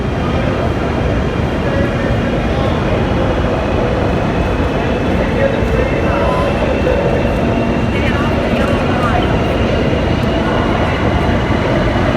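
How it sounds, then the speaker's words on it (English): A maglev train hums and rushes at a station in Hangzhou, a steady, loud broadband roar with no clear pauses, heard under scattered chatter. "This should be the Maglev train in Hangzhou."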